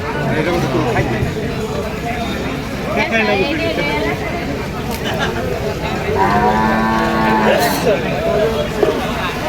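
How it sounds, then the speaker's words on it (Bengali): Calves low at a busy cattle market, with one clear, drawn-out moo standing out late in the clip. Crowd babble and a voice run throughout. "দর্শক দেখতেছেন চারটা বাছুর খুবই ছোটো বাছুর"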